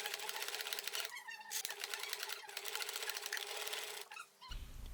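A sewing machine stitches a strap handle onto a bag, running in fast rattling bursts with brief pauses and a click at the end, close and clear with no voices.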